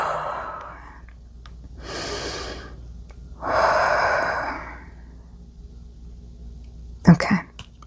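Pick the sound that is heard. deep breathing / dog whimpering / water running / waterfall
deep breathing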